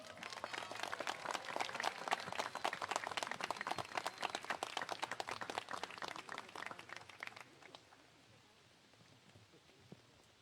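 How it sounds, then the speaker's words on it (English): Audience applause fills a graduation investiture ceremony hall, a dense, steady clatter of many hands clapping that holds for several seconds before thinning out and fading toward the end. "to stand and receive applause as we also celebrate the achievement of her daughter"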